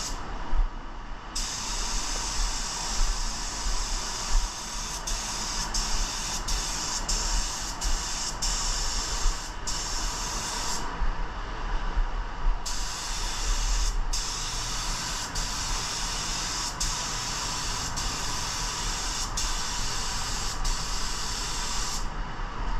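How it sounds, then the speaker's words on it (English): A spray gun mists paint onto a panel of a 1986 El Camino in a steady, close, loud hiss that runs for long stretches, broken by a few short pauses, with no talking. "I'm gonna be like about 10 inches to 12 inches away from the panel and just mist the paint."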